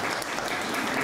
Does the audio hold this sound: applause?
yes